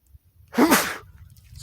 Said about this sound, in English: Whoa, I'm about to sneeze.